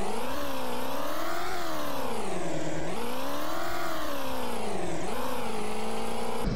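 Sports car engine in a Roblox video game, a C7 Corvette, revving repeatedly with rising and falling pitch in loud, close, continuous sweeps that dip and climb again several times.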